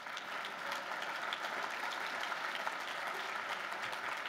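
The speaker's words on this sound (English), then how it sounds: "You're supposed to clap right there." Audience clapping at a summit panel on bridging the country's divide, a steady even wash of applause at moderate distance, unbroken for several seconds.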